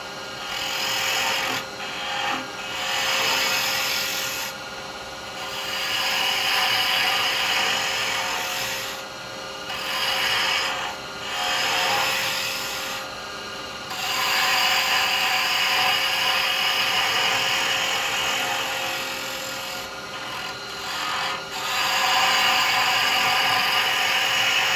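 Wood spins on a lathe while a carbide chisel cuts a slight taper on a Christmas nutcracker leg, giving a steady, close, rasping scrape in several bursts separated by brief pauses, with no talk.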